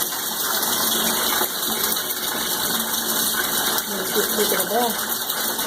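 Six pet ducklings bathe and paddle in water, making a continuous close splashing and gushing wash with faint peeping chirps near the end.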